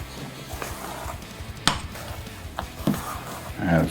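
A spoon stirring flour in a bowl for a mulberry pie, scattered scraping and knocking strokes with a few sharper clinks against the bowl, close and moderately loud, with faint background noise.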